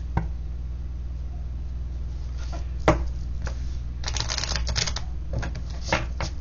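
Lenormand fortune-telling cards are shuffled by hand, with a few sharp riffling and flicking bursts over a steady low hum, the busiest stretch coming near the end.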